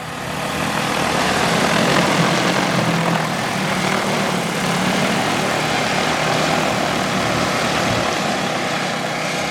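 An agricultural spraying drone flies back over farm fields to refill, giving a loud, steady propeller drone that stays close and continuous throughout with no speech.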